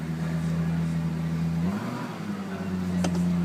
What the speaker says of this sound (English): I'm just going to rev it up here.